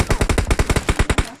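Automatic weapon fire in the mobile battle royale game PUBG Mobile, a rapid burst of about a dozen loud, evenly spaced shots close up.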